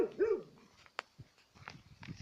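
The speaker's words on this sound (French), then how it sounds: "Oh, les chiens ici, il y en a plein." Several dogs in a place full of dogs bark and yip, with a louder burst at the start and short scattered barks after, some near and some farther off.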